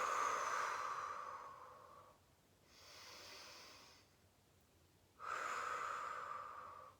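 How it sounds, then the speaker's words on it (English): Deep, slow breaths during a pelvic floor mobility exercise, a long exhale, a softer middle breath, then another strong exhale, close and quiet with no talking. "We're taking 3 deep breaths here."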